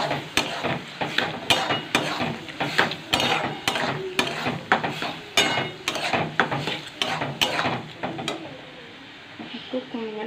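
Food is stirred in a cooking pot, a spoon scraping and clacking against the sides in a steady, busy series of close strokes that pause near the end.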